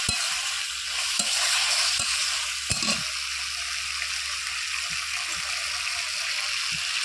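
Mixed vegetables with tomato, ginger paste and cumin powder sizzle steadily in a pan while a spoon scrapes and stirs in irregular knocks.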